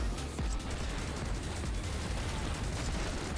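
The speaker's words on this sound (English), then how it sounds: "I hear the machine gun or something." Dense, continuous bursts of machine gun fire crackle through a Flashout 3 futuristic racing game, rapid overlapping shots filling the whole moment at a steady, loud level with no voices.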